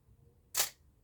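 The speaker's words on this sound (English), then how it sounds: "let's just try the self-timer now" A single quiet mechanical shutter click from a Minolta XG-E film camera fired by its self-timer, brief and crisp, with near silence around it.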